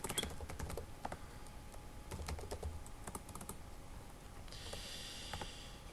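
Typing on a computer keyboard, with quick clusters of close, crisp keystrokes separated by short pauses over a quiet background hiss.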